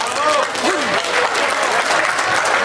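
Audience applause for a folk band at a 2024 New Year's Eve celebrity show, a steady dense wash of clapping with faint voices and a brief vocal glide in the mix.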